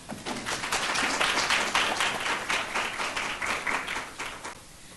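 Steady crowd applause at a student leadership luncheon, dense clapping from many hands that swells early and tapers off slightly toward the end.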